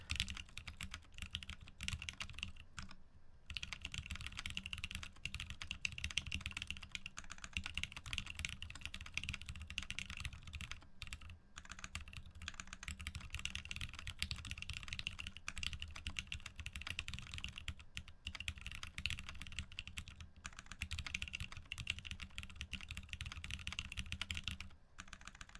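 Fast typing on a computer keyboard fills the clip with dense, continuous key clatter, broken only by a few very short pauses.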